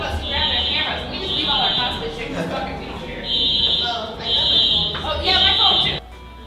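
Fire alarm at an anime convention, a loud piercing high-pitched electronic tone that blares in repeated bursts, heard under ongoing talk from people nearby amid crowd noise.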